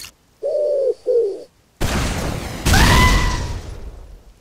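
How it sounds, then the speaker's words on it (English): Doves cooing inside a TF2/Garry's Mod game scene, two short clear hooting coos, then a loud burst of rushing noise with a brief whistling tone, like a blast or gunfire. "Words cannot express how much I hate doves!"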